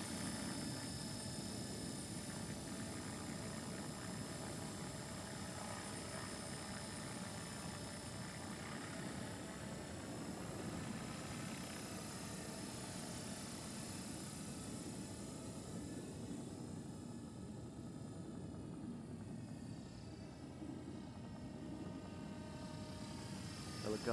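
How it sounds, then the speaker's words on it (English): A Trex-500 RC helicopter flying its maiden flight after a crash repair, a continuous steady rotor and motor whine filling the whole stretch at a moderate distance, with no talk heard. "Helicopter looks beautiful in the air."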